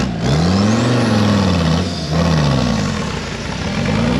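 A rock crawler truck with a 124-inch wheelbase and a 14-bolt axle works along a wet rainforest trail, its engine droning steadily and rising and falling in pitch as it revs and pulls, loud and close with no talk.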